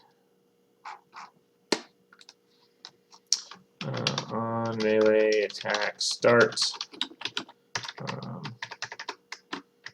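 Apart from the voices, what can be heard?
typing on a new computer keyboard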